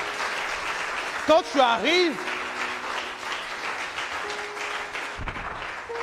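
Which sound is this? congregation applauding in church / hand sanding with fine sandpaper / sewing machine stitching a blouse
congregation applauding in church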